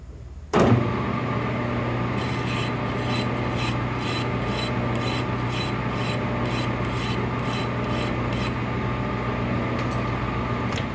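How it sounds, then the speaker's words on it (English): A file run over the threads of a magazine tube spinning in a lathe to clear off burrs; a short knock, then a steady, rhythmic rasping that continues close and loud throughout. "we're going to run the file over it real quick"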